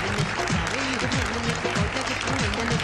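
A crowd at a forum for business women applauds in a loud, continuous burst that stays full and even for the whole stretch, with gliding tones and murmuring voices layered underneath.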